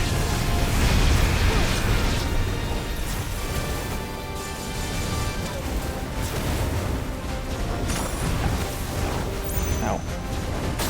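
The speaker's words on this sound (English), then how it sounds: "That's a lot of explosions." A dense stream of explosions and crashing impacts rolls steadily through a battle in the video game Final Fantasy XVI, with loud bursts and booms layered under continuous action noise.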